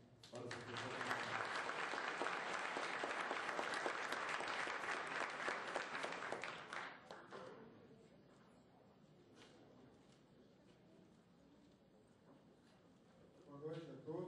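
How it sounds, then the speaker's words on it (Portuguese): Audience applause for Professor Marcelo at a business administration week lecture in Guarulhos, loud and dense for about seven seconds, then fading to scattered claps and murmuring, with a brief swell of clapping again at the end. "Uma salva de palmas para o professor Marcelo."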